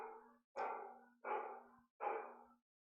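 A puppy gives four short, clear barks, evenly spaced and close, each a rough yap cut off sharply, with silence between and nothing else heard.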